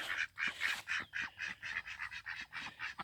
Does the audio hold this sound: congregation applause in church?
no